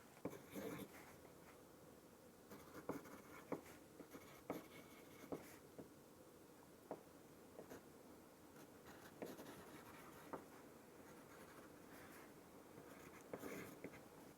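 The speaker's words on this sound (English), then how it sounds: "here's paper and pencil to make notes" Pencil scratching notes onto paper during an IELTS speaking test, a steady run of soft, close, dry strokes and taps spread across the clip with brief pauses, in an otherwise quiet room.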